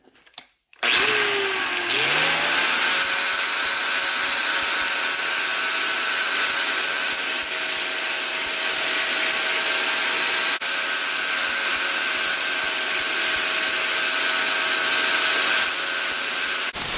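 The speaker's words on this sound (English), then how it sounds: "now we'll just clean them up a bit" An old Mastercraft angle grinder with a flap disc spins up after a short pause and grinds steadily against metal, a loud, sustained whine with a rough abrasive rasp that holds unbroken to the end.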